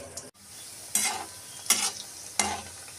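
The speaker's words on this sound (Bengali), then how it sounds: "পিঠে পুলিগুলো এখন মা কড়াতে ভেজে নিচ্ছে।" Sweet potato puli pitha fry in hot oil in a wok, a low background sizzle broken by three short bursts of scraping and spattering from stirring, close and with no talking.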